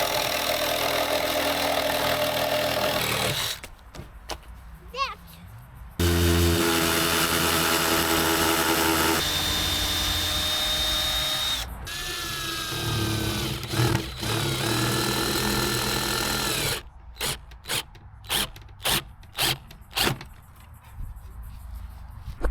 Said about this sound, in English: and now we're just going to reciprocal saw down here.